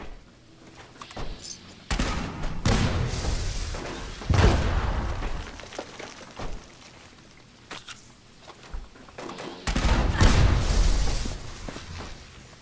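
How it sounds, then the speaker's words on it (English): Heavy cannon blasts and incoming fire in a Fallout wasteland game, several loud booming bursts separated by quieter stretches of rumble and footsteps. "I love this cannon so much."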